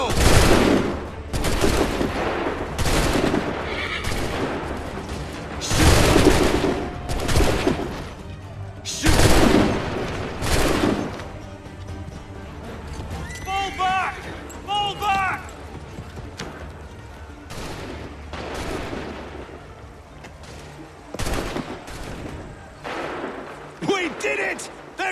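Musket volleys in Assassin's Creed 3, loud repeated bursts of gunfire in a battle, several big volleys early on followed by scattered shots, with soldiers' voices shouting between them.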